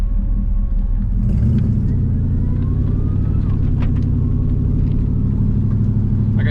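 An LS-swapped Pontiac Firebird that has sat unused for a while drives along at low RPM, its deep, loud, continuous engine rumble steady throughout, heard from inside the car.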